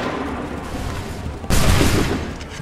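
A sudden massed musket volley erupts on command in Assassin's Creed III, a loud broadband blast at mid-clip that rolls and decays over about a second against steady battlefield din.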